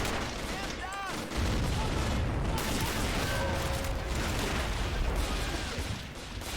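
Gunfire and explosions from the video game Army Men of War during a mountain D-Day battle, with dense, continuous loud combat noise and bursts throughout, plus brief whistling tones.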